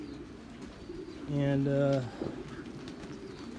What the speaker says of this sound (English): here are the birds that I'm actually saving